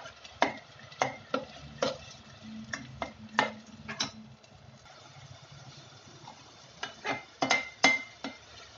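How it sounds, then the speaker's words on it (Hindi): Tomato gravy for manchurian lightly frying in a pan, with a quiet simmer under a steady run of sharp spoon clicks and scrapes against the metal. The clicks are loud and irregular, there is a quieter patch in the middle, and no one speaks. "इसको भी हल्का सा भून लेंगे।"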